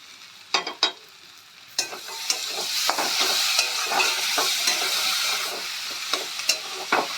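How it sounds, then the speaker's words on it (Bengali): Onion, capsicum, tomato and cashews frying in a pan for Dhaka-style kosha mangsho, a steady loud sizzle broken by repeated sharp scrapes and knocks of a spoon stirring. "সবগুলো আমরা ভালো করে ভেজে নেব।"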